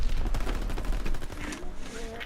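Gunfire from the video game Call of Duty WWII: a dense, rapid burst of shots rattles on for about two seconds, loud and close, with a voice briefly underneath.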